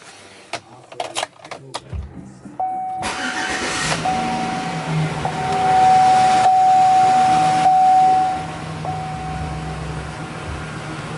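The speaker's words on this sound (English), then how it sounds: "I'm going to give the truck a quick start, make sure it's running good" A Chevrolet Silverado pickup truck in a garage cranks and fires up after a few clicks and knocks, then settles into a steady idle with a brief rev midway, loud and close.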